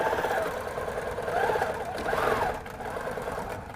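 A sewing machine with a ruler foot fitted, set to precise mode at 11 stitches per inch, stitching steadily while quilting English paper pieced hexagons, a continuous close mechanical whir that rises and eases slightly in speed.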